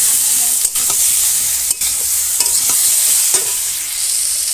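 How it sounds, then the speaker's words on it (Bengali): Cumin, ginger and chili sautéed in a pan in a village kitchen, a steady loud sizzle with brief stirring scrapes and clacks breaking through, no talking. "মশলা দিয়ে আমি কষাবো জিরে আদা লঙ্কা"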